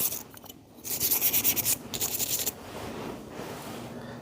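Steel rails of a Benchmade Autocrat 3400BK-2 knife, caked in wet rust, are scrubbed in a quick run of close, rasping rubbing strokes that then thin into a softer, steady scratching.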